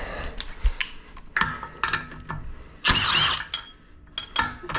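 A ratchet loosening the lug nuts on a car wheel during brake work: a series of short clicking and rattling bursts, with one longer grinding run in the middle, close and moderately loud, no talk.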